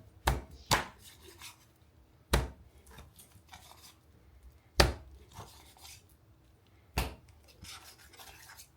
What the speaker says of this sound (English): And we're going to chop it up in small pieces.